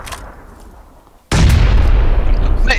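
A loud grenade blast in PUBG bursts in after a quieter stretch, its heavy rumbling roar sustained and close, with broadband debris and echo lingering to the end.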